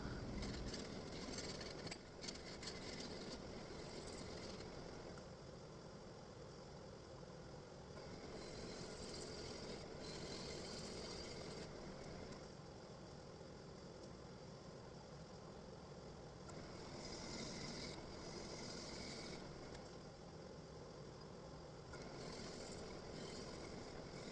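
A carbide tool shears steadily through a black walnut and black-and-pearl swirl resin bowl spinning on a lathe, giving a continuous close, loud rushing hiss with slight surges and dips and no talking.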